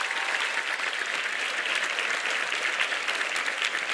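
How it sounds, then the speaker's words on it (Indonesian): A large audience at an Indonesian youth and national-defence event, with pesantren students, claps in thick, continuous applause that stays loud and even for several seconds without any talk over it. "Tepuk tangan dulu buat semuanya."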